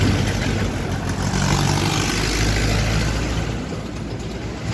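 An Apache RTR 160 4V motorcycle engine runs steadily at idle, a continuous low rumble with broadband mechanical noise holding even for the whole stretch, no voices over it.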